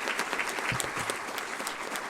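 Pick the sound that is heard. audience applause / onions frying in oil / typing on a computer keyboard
audience applause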